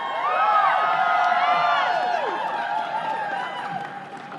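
A large outdoor crowd at a New York rally against the Muslim ban on a cold night, cheering with many shrill rising and falling whistles and some clapping, loud at first and easing off slightly.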